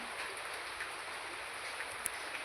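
Heavy monsoon rain falls steadily in a soft, continuous hiss with a few faint drips, and no voices.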